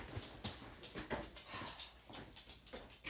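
A dog whimpers and whines indoors in a run of short, repeated cries over a busy background, fairly close and moderately loud.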